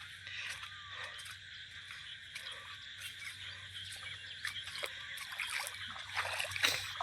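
Someone wades through flood water in Mandropur village after heavy rain, with water rising from the ground. Faint sloshing and splashing steps continue irregularly for several seconds over a quiet outdoor background.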